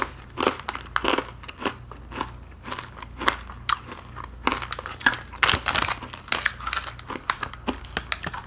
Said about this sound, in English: Now, they aren't kidding when they call it crunchy.